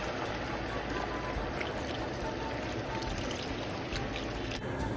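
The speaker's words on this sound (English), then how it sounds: "Then add in about 2 to 4 cups of your beef stock" Beef stock streams steadily into a pan for short ribs, a continuous close pouring and splashing rush that cuts off abruptly at the end.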